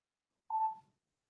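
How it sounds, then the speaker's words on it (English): A single short electronic beep, clean and steady, standing alone in near silence. "What's beeping?"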